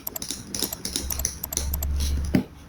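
Keys tapped on a computer keyboard during CAD software work, a quick run of light clicks ending in a firmer press of the Enter key, close and clear with no talking.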